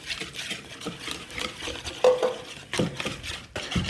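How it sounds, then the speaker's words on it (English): A whisk scraping and clinking against a bowl as milk goes into thick Yorkshire pudding batter, with an irregular stirring rhythm and a few sharper metallic taps, close and fairly quiet. "And now I'm going to add the milk slowly whilst whisking."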